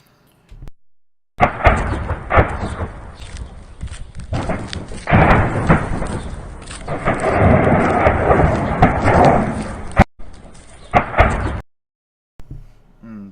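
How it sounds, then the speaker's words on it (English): Explosions at a Russian base in Crimea, a string of heavy booming blasts and rolling rumbles that swell and overlap for several seconds, then cut off abruptly before a faint tail. "Lots of explosions."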